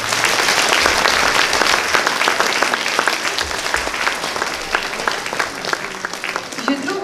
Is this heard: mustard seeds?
no